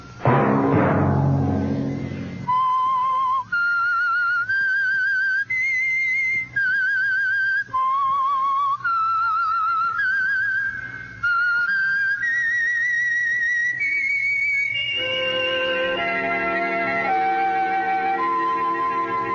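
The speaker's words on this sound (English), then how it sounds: "Let that whistle be your signal" A melody is whistled, a series of clear sustained notes, rising and falling over a faint orchestral backing after a brief musical opening.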